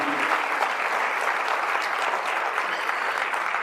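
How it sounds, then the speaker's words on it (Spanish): A church congregation gives a long, loud burst of applause during a Spanish-language service, steady dense clapping filling the room throughout. "Den un fuerte aplauso a Él, aleluya."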